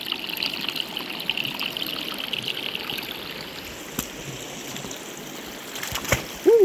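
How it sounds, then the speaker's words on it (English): Many small waterfalls trickle and splash steadily down a shallow stream's natural rock staircase, a continuous close babble with a brief louder splash near the end. "So many little bitty mini waterfalls."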